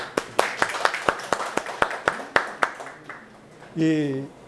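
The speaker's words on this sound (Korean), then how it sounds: "이용장 의원님하고 마을 분들한테 한번 박수 한번" A small group at a village safety-map presentation in Korea claps in a steady, moderately paced rhythm of distinct claps, ending with a brief voice.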